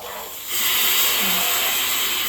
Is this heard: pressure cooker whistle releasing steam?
yes